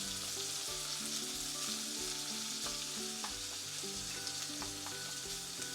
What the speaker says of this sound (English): And so I'm going to add in my onion